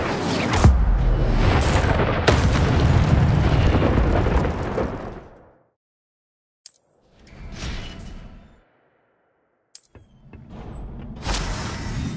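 Incendio fire spells in the Hogwarts Legacy video game, a long roaring fiery whoosh followed by several shorter bursts and blasts separated by brief silences, loud and close, with no speech.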